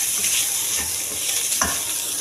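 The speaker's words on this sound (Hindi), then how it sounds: "अब हम चिकन और ये गाजर शामिल कर देंगे और इसको हल्का सा फ्राई करेंगे।" Chicken pieces and carrots frying lightly in a pan for soup, a steady close sizzle running throughout with a few soft stirring scrapes and no talking.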